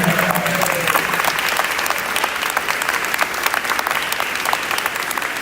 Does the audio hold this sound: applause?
yes